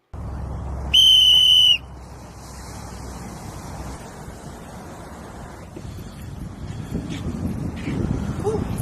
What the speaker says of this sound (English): you gotta chill out with that whistle shit, bro